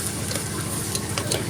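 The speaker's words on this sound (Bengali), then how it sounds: "এবার আমি পেঁয়াজগুলোকে ব্রাউন কালার করে ভেজে নিব।" Onions frying in a pan for Old Dhaka-style biryani, a steady dense sizzle with faint stirring scrapes, close and continuous with no voices.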